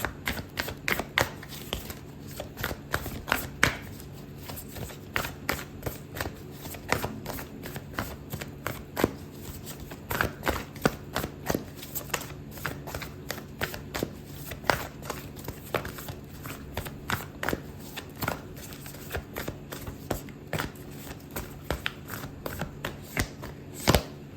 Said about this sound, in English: I'm gonna pull out an oracle card for you, Sagittarius